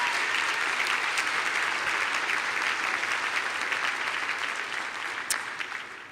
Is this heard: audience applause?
yes